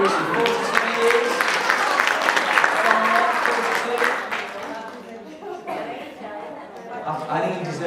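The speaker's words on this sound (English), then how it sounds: "a little round of applause" Conference audience applause at an early childhood education event, a broad wash of clapping from a crowd that swells, then thins and tapers with scattered claps and voices underneath.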